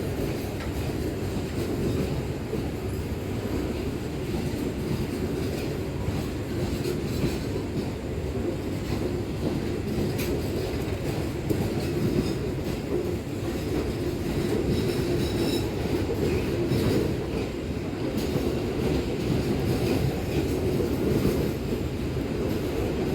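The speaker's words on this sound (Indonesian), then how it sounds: "Selamat jalan kereta api Gumarang, semoga selamat sampai tujuan." The Gumarang passenger train rumbles past steadily for the whole stretch, wheels clacking rhythmically on the rails with occasional squeals, loud and close throughout.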